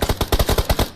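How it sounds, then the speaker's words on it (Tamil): Automatic gunfire in the video game PUBG: a rapid burst of about nine evenly spaced shots within one second, loud and close, with no talk. "நான் கால்ல சுடுறேன் நீங்க இருக்கிறது மேல சுடுங்க"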